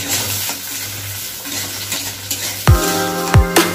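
Capsicum sizzles steadily as it fries with onion in a home kitchen pan, with two sharp scraping stirs near the end and no talking.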